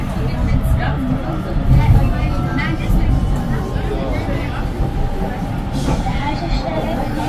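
Crowded tram interior on a ride in Würzburg, a steady rumbling rolling drone with muffled passenger chatter and background babble throughout, fairly loud and close.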